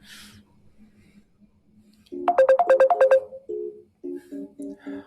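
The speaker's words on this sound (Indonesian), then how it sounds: "Ustaz Felix telepon." An incoming call sets off a mobile phone ringtone: a loud burst of rapid electronic melodic beeps, then a pause and shorter repeated tonal pulses, with faint background sounds before it starts.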